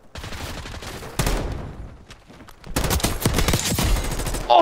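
Rapid bursts of gunfire in the video game Black Ops 6, with loud clustered shots and a short lull in the middle before another dense volley, no talking.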